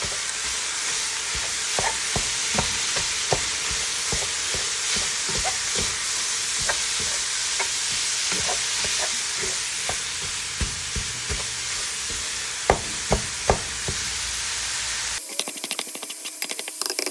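Chopped frozen onion fries in a pot with a loud, dense hiss full of crackles and pops that runs continuously, then cuts off abruptly just before the end.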